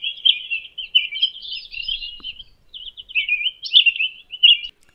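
A jungle babbler gives a series of high, thin chirps in short bursts, clear and fairly close against a quiet background, with brief pauses between the calls.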